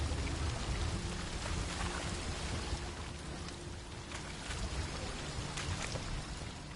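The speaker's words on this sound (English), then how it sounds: "A waterfall flowing upwards?" Steady, dense rushing of a waterfall in a PS4 game, a continuous broadband wash of falling water that holds at an even level from start to finish with no voices.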